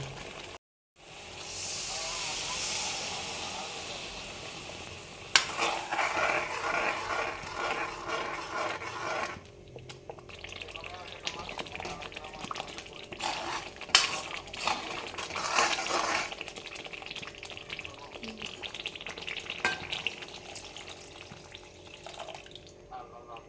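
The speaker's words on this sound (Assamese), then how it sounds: "এইখিনি একদম ধুনীয়াকৈ তেলটো ওলাই যোৱালে ভাজিব লাগিব।" Ginger-garlic paste with cumin and salt frying in oil: a continuous close sizzle that swells and fades as it is stirred, with some watery splashing sounds mixed in.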